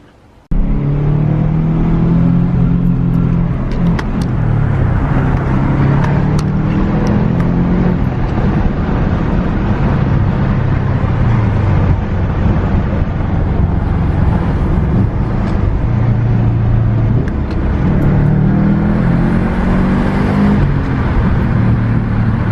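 A Subaru STi drives with a loud, close, continuous engine drone. Its pitch rises and falls as the revs climb and ease through the gears, with no talking.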